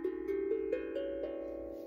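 Soft, bell-like metallic tones from an 11-note Yinama steel tongue drum played with finger picks ring out one after another, each sustaining and overlapping, gentle and fairly quiet.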